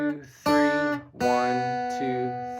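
Classical-style guitar plays a beginner lesson piece from Book 1, Lesson 7, ringing chords and single notes in a slow three-beat rhythm, with sustained harmonics and a brief pause between phrases.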